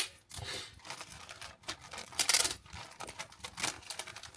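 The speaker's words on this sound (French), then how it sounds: "Et je suis en train de siffler le scotch." Adhesive tape being pulled off its roll while wrapping a gift, heard as a series of close, sharp ripping and crackling bursts in short irregular pulls.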